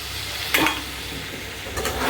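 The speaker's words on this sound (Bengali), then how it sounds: "এখন আমি এখানে ভেজে দেব" Taro stems and eggplant frying in a pan, a steady close sizzle with a couple of sharp stirring scrapes against the pan and no voices.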